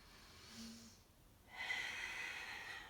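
A deep breath in and out during a yoga power flow: a soft nasal inhale, a brief pause, then a longer, airy exhale, close and quiet with no other sound.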